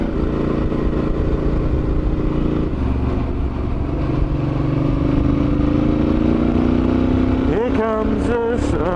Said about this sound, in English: I'm riding my bike, it's alright.